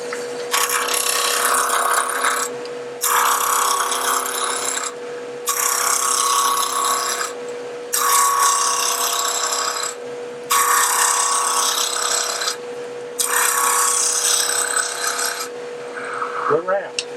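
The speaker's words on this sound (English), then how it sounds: "I'm going to use my roughing gouge." Wood lathe cutting with a roughing gouge, loud steady rasping shreds in repeated passes of about two seconds separated by short pauses, under a constant motor whine, with no talking.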